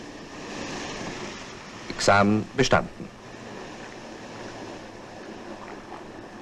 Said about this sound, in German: Was passiert, wenn man durch Wasser fährt?